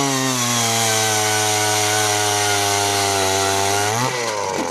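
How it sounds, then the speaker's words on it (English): A regular ice auger drilling holes in frozen lake ice while ice fishing, a loud, steady engine drone held close for several seconds before the pitch dips briefly and recovers near the end. "you just used a regular ice auger to drill a few holes"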